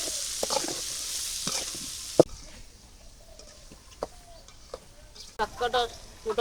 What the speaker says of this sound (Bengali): আলুগুলো হালকা ভাজা দিয়ে নিছি আমি এই আলুর ভিতরে পিঁয়াজ কুচি দিয়ে দেবো